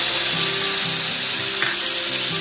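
Onion paste hits hot oil for doi katla fish curry, giving a loud, dense, continuous sizzle that hisses steadily from start to finish, close up, with no voices over it.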